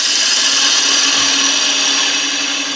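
Wood lathe with a gouge cutting a turned wooden snowman, a steady loud high-pitched whirring hiss of the tool on spinning wood, continuous and close.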